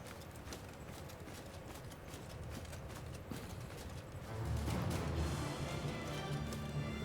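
Cavalry horses gallop in battle in Mount & Blade II Bannerlord, a steady rumbling clatter of many hooves that grows heavier and nearer halfway through, with a low drone beneath.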